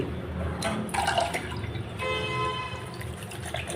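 Dried nangu fish pieces are rinsed in a bowl of water, giving close, wet splashing and dripping sounds with small clinks, and no talking.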